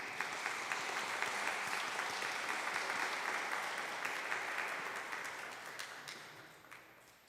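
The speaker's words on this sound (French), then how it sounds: "On les applaudit." A church congregation at a Catholic Mass in Gatineau applauds steadily, dense clapping filling the space and slowly fading out.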